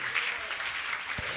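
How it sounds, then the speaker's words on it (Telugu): A church congregation claps together during a Telugu sermon about David, a dense, steady wash of hand claps that fills the room at moderate distance without any voices over it. "చప్పట్లు కొట్టి దేవుని నామాన్ని కనపరుద్దాం"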